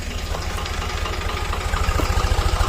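A heavy tractor engine idles with a rapid, even low thumping that grows slightly louder toward the end, no talking.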